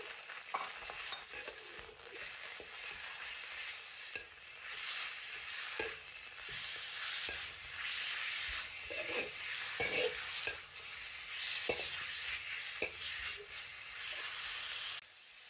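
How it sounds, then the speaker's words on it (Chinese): Pork belly stir-frying in a wok of warm oil, rendering its fat: a steady bright sizzle broken by repeated scraping and clacking of the spatula at irregular intervals, close up with no talking. "油温微热呢，就可以放入五花肉了，慢慢煸炒出五花肉的油脂。"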